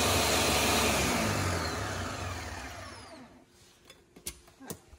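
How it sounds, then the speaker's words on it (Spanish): A kitchen blender purees pigeon peas with a loud, steady whir for about three seconds, then cuts off, leaving a few clacks and knocks as it settles. "Ya saben que estoy licuando la mitad de los guandules."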